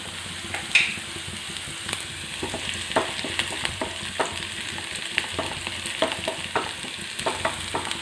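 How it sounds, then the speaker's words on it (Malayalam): Curry leaves crackling in hot oil in a pan for Kerala-style beef liver fry, with a steady sizzle broken by sharp pops and spatters scattered throughout, and no talking. "അതിൻ്റെ കറിവേപ്പില ഇട്ട് കൊടുക്കാം"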